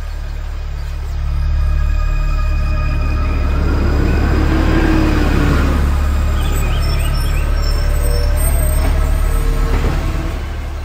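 A truck hauling rattan rolls closer, its heavy engine rumble swelling after the first second and then holding loud and steady, with a faint hiss of brakes near the end and no voices.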